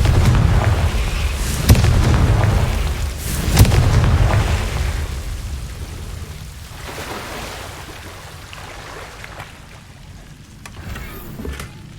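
Explosive Confringo spell blasts from Hogwarts Legacy gameplay: two sharp, loud booms a couple of seconds apart over a continuous rumbling bed, followed by quieter scattered impacts fading out.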